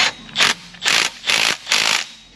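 Ratchet wrench clicking in four quick bursts as it tightens a 13 mm bottom bolt on a GM 3.8L 3800 Series II lower intake manifold, close and fairly loud with short pauses between strokes.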